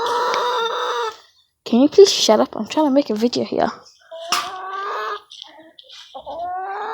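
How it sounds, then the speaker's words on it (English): A rooster hatched in an incubator clucks and crows in loud, repeated bursts, with a person speaking over and between the calls. "that's the rooster that came from our incubator"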